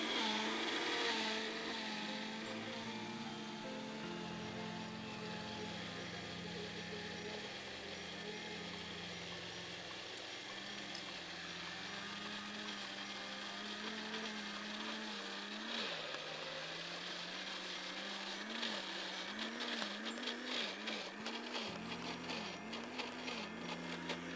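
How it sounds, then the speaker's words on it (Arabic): Electric blender mixing cake batter, a steady whirring motor drone that runs continuously, with the pitch wavering and churning more unevenly toward the end. "اخلط في الخلاط، وبعد كده احط النص التاني."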